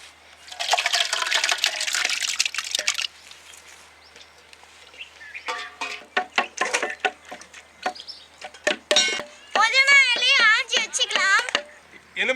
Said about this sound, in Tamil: பானையில் ஊற்றி நுங்கு பானத்தை ரெடி பண்ணிக்கலாம்.